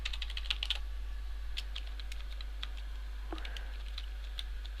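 Rapid bursts of computer keyboard typing, close and crisp, clustered in the first couple of seconds and then sparser, with a faint quiet room behind.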